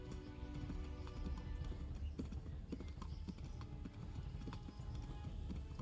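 Horse hooves clip-clop in a steady trotting rhythm in the medieval video game Kingdom Come: Deliverance, set against busy game ambience.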